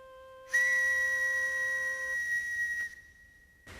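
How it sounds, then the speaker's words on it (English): A sharp, shrill whistle blast holds steady for about two and a half seconds, loud and close, then cuts off, followed by a brief second toot. "first I have to find my whistle"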